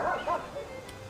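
A dog named Minnie barks a few times in short yips, fairly faint and off in the distance, with a brief quiet gap between the bursts.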